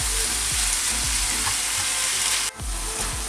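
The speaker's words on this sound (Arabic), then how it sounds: "خليت الكفته كتقلى غير مع زيت الزيتون بوحدها" Kofta and chicken frying in olive oil for a homemade tacos filling, giving a loud, dense, continuous sizzle up close with a rhythmic low knocking of stirring and a brief dip near the end.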